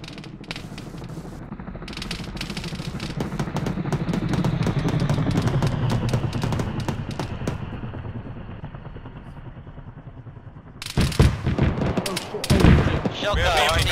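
Autocannon fire in Arma 3 rattles in dense, rapid bursts over a rumbling vehicle or aircraft drone, then several louder, sharper bursts close by near the end.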